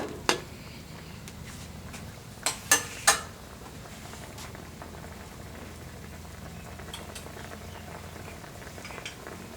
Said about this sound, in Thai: เดือดแล้วนะครับหมูเราจะสุกแล้ว